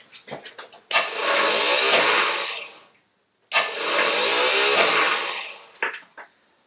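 Starter motor cranking a Triumph Herald 13/60 with a rebuilt Spitfire-specification engine, two sustained whirring bursts of about two seconds each separated by a brief pause, close and loud, with a few clicks around them.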